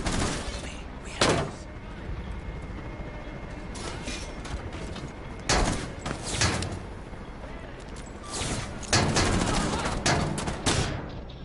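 Several sharp gunshots ring out in a competitive shooter match with a planted-bomb objective, scattered irregularly over a steady background of game ambience and players talking.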